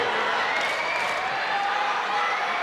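Crowd at the All England Badminton final applauding and clapping in rhythm, a dense, steady wash of hands filling the arena at match point.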